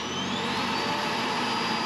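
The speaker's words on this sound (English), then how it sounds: "Let's try the vacuum cleaner." Vacuum cleaner running on power from a Honda EU3200i generator, a steady loud whine with broadband roar that holds constant for the whole two seconds, no voices.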